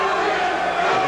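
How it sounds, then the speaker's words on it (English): A boxing crowd at a 1989 Las Vegas fight chants a boxer's name in unison, a loud, sustained roar of many voices heard from the arena. "the crowd takes up a chant, Louie, Louie"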